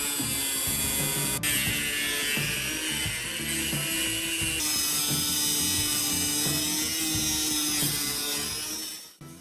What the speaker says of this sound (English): Using a cutting tool, carefully trim a ring around the rim near the top edge.